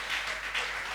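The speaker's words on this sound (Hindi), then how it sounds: "एक बार राजेश भाई के लिए तालियां बजा दो साहब" An audience applauds for Rajesh bhai at a Hindi comedy poetry event, a steady, moderately loud wash of clapping that swells slightly and lasts the whole moment.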